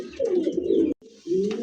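A pair of black German Beauty pigeons coo close by in low, throaty phrases, with one cooing call broken by a brief pause before another begins.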